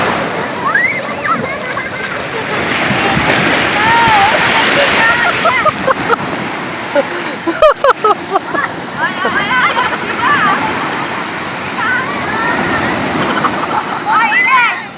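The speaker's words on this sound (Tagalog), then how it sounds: "talagang na-enjoy ng mga bata yung mga hampas ng alon sa baybayin dagat" Ocean surf at San Juan, La Union, in the Philippines, rolls and splashes continuously along the beach, loud and near, with people talking over the wash of the waves.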